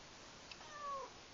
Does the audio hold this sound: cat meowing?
yes